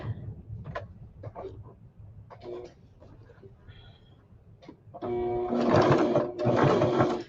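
A sewing machine starts after a stretch of talking and runs in a steady, close whirring burst with a brief pause, stitching fabric.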